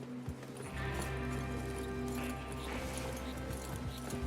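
Hooves clip-clop steadily as horses trot along in a video game, a rhythmic beat over a low continuous hum, with no talking.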